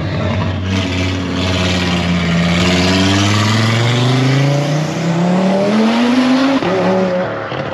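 An Audi RS3 tuned to around 850 horsepower roars through its exhaust under hard acceleration, a loud, steady engine note rising in pitch over several seconds from inside the car, with no talk over it.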